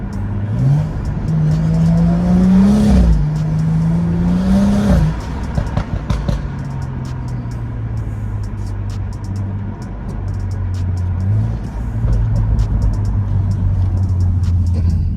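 A stage 2 tuned Hyundai i20 accelerates under light throttle in cold, wet weather on worn rear tyres; a steady engine drone rises in pitch for a few seconds, then settles into a lower, continuous rumble.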